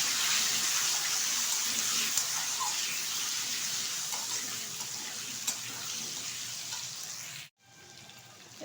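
Ivy gourd and potato pieces frying in a wok, giving a steady, fairly even hiss of sizzling oil that cuts off abruptly near the end.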